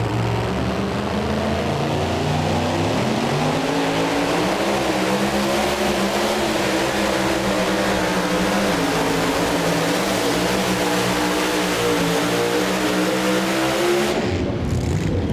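Super modified two-wheel-drive pulling truck at a charity truck and tractor pull in Hillsboro, its engine roaring loud and continuous, revs climbing steadily through the pull before cutting off abruptly near the end.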